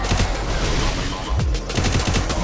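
Rapid automatic gunfire in the mobile battle royale game Garena Free Fire, with bursts of shots rattling steadily throughout, loud and close, and a heavier thump mid-way.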